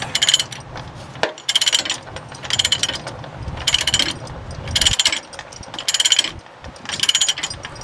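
A ratchet strap on a truck load clicks as it is tightened, in rhythmic bursts of metallic ratcheting separated by brief pauses, close and loud.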